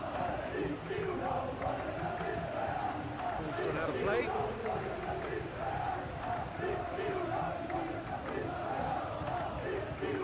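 A stadium crowd in a PES 21 football video game, LaLiga match between Real Sociedad and Real Betis, roars steadily throughout with rising chants, while a commentator speaks over it.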